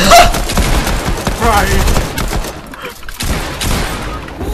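Rapid video-game gunfire rattles in dense, loud volleys with near-constant shots and brief lulls, while players talk over the shooting.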